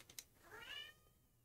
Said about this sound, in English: man, that cat's going nuts.